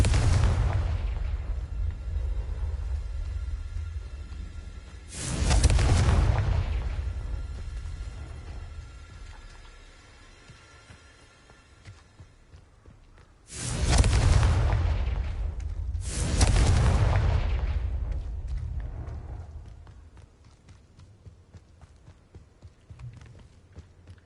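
Confringo spell blasts in Hogwarts Legacy, four heavy booming explosions spaced across the stretch, each loud with a deep rumbling tail that fades away between blasts.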